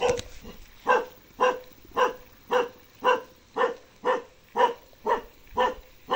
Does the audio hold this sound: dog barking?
yes